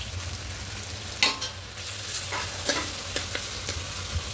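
Ground spices loosened with a small splash of water are stirred in a bowl, producing close, wet scraping strokes that repeat at a loose rhythm, with no talk.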